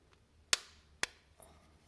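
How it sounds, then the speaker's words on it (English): Plastic safety eye washers are pressed onto the back of a crocheted Cinderella doll head, giving two sharp, close clicks half a second apart, followed by a softer third tap. "Pop those safety washers on there."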